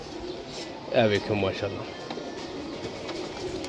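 Pigeons coo softly in a loft, a short rolling coo standing out against low background noise while someone talks nearby.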